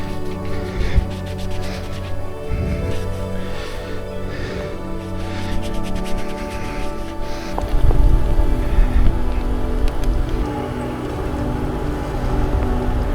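Heavy rain pours down on a rider cycling in Tenerife, a dense steady hiss of rain with wind buffeting and a louder surge midway, close and continuous without talking.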